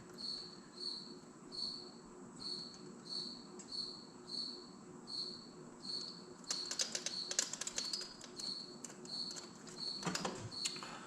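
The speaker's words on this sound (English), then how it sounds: "And cricket season has started, as you can hear my co-host over there." Crickets chirp in a steady, regular pulsing rhythm, moderately close, with some brief clicking and tapping sounds joining partway through.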